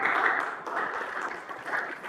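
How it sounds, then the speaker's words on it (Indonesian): A classroom of students clapping for a student group that has just finished presenting its discussion, steady dense applause holding at a moderate level for about two seconds with no voices. "Kelompok 1, silakan kembali tepuk tangan"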